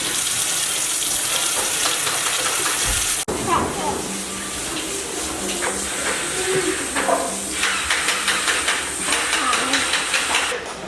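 Tap water runs steadily while paint is washed off a small toy motorcycle at a sink, a continuous hiss with splashing under a child's and an adult's voices throughout.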